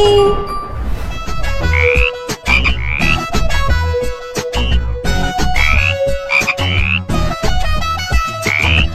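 Repeated frog croaks over a bright, chiming musical backing in a Bengali nursery rhyme, recurring in a steady rhythm throughout.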